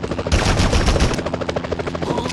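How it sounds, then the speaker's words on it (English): Rapid machine-gun fire rattles in the Spider-Man (2001) video game as a helicopter attacks, loud and continuous bursts with a low rotor-like rumble beneath. "Enough with the shooting already!"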